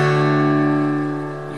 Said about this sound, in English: then you've got drop D tuning, which should sound like this.